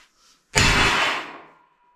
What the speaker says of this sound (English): that's why you use a two-hand hammer like this